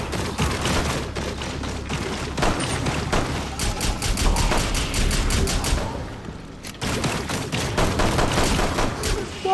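Sustained gunfire in the video game Rainbow Six Extraction, with dense rapid automatic bursts and scattered single shots that continue loud and close, broken by a brief lull before the firing resumes.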